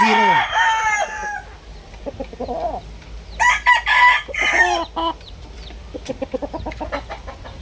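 A healthy, large rooster crows loudly up close, followed by repeated clucks and squawks while it is being weighed on a scale, with a few short bursts of calling toward the end.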